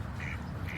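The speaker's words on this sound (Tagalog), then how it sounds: "Ducks." Ducks at Golden Gate Park quack in a brief run of bright, nasal calls, fairly faint over a low outdoor background hum, with no talking.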